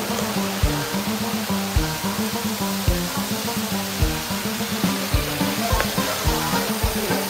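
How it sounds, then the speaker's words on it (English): Constant rushing splash of a water fountain on the San Antonio Riverwalk, a broad steady wash of falling water with a faint rhythmic pulse underneath. "We're gonna see some beautiful water features"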